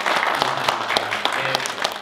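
Applause from fans and staff at a web drama premiere screening, with a bright crowd of hands clapping close by and a faint voice speaking under the clapping.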